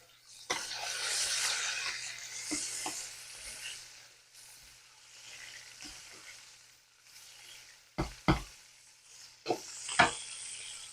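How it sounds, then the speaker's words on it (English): Homemade mushrooms fry in a pan with a steady, close hissing sizzle, some stirring, and a few sharp utensil knocks near the end. "I don't want to put so many in there they're not frying fast enough."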